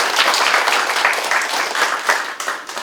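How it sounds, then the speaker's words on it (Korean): Audience applause at a Korean housing policy forum on substandard single-room housing, a burst of dense clapping that holds steady and then thins out toward the end. "큰 박수로 청해 주시면 감사하겠습니다"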